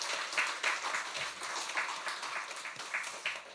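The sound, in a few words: applause for the church choir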